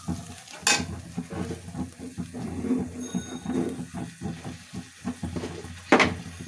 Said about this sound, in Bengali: এখন আমি এটা ভালো করে কষাবো।